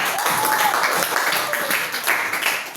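Brief burst of applause in a classroom as students clap for a group that has just presented, a short lively patter of many hands with some voices mixed in.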